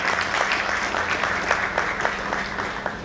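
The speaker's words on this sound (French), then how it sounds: "Vous pouvez vous applaudir." A room of people applauding at a French award ceremony, steady rhythmic clapping in unison, fairly close and sustained, with no speech over it.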